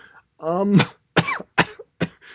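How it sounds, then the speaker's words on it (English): A few sharp coughs in quick succession, close and loud, with a brief throat-clearing sound among them. "Sorry about the coughing again."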